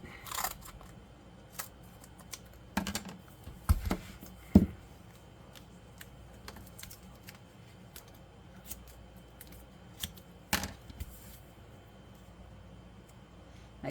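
Scissors snip through cardboard in a few sharp, close cuts with quiet pauses between them, during a craft project making a reusable traveler's notebook.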